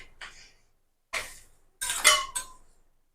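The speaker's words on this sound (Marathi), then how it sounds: "आपला पराठा आता आपण पलटी करून घेऊया या पद्धतीने." A green pea paratha is flipped on a hot, oiled tawa griddle, making three separate bursts of scraping and metallic clinking from a spatula against the pan, close by with quiet gaps between them.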